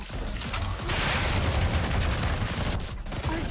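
Rapid gunfire bursts from the Blue Archive video game, a dense continuous clatter of shots with low thumping impacts running steadily throughout, loud and without speech.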